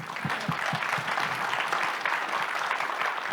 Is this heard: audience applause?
yes